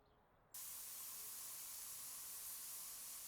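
A continuous loud spray-paint hiss starts abruptly and holds steady as a car roof is painted in Spray Paint Simulator, with no talk over it.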